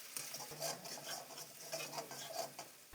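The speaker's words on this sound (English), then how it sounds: "mix them well with the onions" Spices and onions being stirred in a pan after red chili powder and salt go in, a steady run of scraping, rasping strokes with a soft sizzle underneath, close and moderately loud with no talking.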